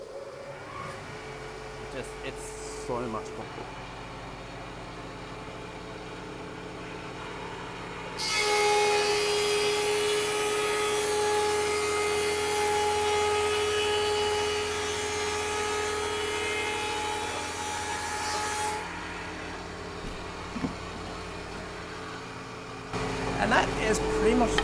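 A new woodworking machine bought from China switches on and runs with a steady whirring hum and a clear tone for about ten seconds, then winds down. A voice talks briefly before and after.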